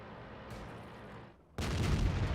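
Artillery in World of Tanks fires with a sustained rumbling blast, then a brief dip before a second, louder booming impact crashes in close and fills the end.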